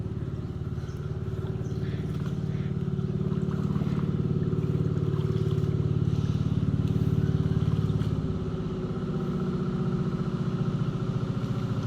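A motorised outrigger boat passes along a river, its engine a steady droning hum that swells slightly toward the middle and then eases as it moves on, heard alone without talk.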